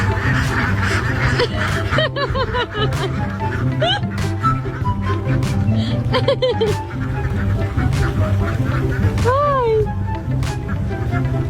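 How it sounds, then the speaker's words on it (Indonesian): A flock of ducks crossing a road in Indonesia, quacking and honking steadily in a dense, close chorus with scattered louder calls, under a constant rumble of traffic and background noise. "buat para bebek ini pulang ke kandang atau pergi ke sawah"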